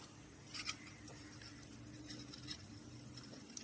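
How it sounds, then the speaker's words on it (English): Scissors snip crochet thread in a few quiet, close cuts and light scratchy rustles spread over a faint steady background hiss. "I'm going to trim off this embroidery, well, crochet thread"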